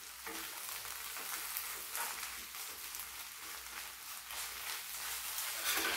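Korean green onion pancake with squid, onion and carrot frying in oil, a steady close sizzle and crackle that continues evenly throughout, without talking.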